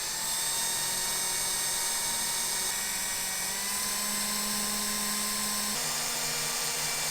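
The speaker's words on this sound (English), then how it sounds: "I'll continue drilling these two as they will go through to nothing" A high-pitched power drill with a blunt 5.5mm bit whines continuously at close range, its pitch shifting slightly a couple of times as it bores through the metal boot lid of a Subaru WRX.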